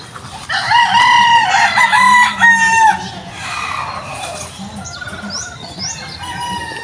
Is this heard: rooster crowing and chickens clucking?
yes